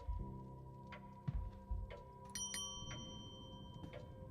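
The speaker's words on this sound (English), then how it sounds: "I guess I should ring the bell." Doorbell of Blake Manor rung in a video game: two bright, ringing chime tones close together, with sustained harmonics over a low musical drone and soft ticking.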